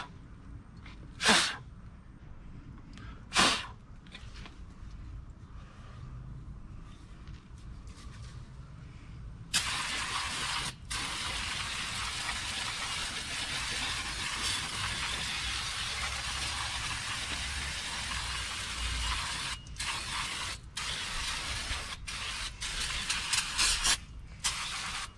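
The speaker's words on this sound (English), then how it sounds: "Some brake parts cleaner. First, I want to get all that dust out of there." Brake parts cleaner hisses out of an aerosol can onto the rear drum brake of a 2016 Nissan Sentra. A few short bursts come first, then one long sustained spray with brief breaks near the end.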